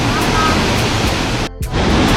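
Waterfall in Sapadere Canyon, Turkey, where twin falls drop about six to seven metres, gives a loud, steady, close-up roar of rushing water that briefly dips near the end before surging back.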